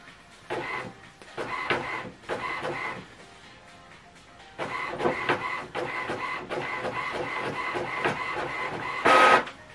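An HP ENVY 4527 inkjet printer prints a document: bursts of mechanical whirring and carriage movement, pausing briefly, then a longer steady run with a louder final feed, close and clear with no talk.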